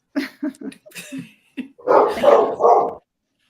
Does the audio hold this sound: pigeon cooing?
no